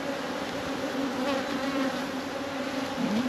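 Honeybees swarm around an open hive during an early June hive check, a dense, continuous close buzz with wavering pitch and no speech.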